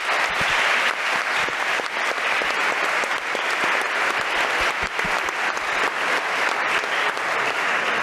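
Audience applause at a Bitcoin ethics and investment conference, a dense, sustained burst of clapping from a crowd that stays loud and even for about eight seconds.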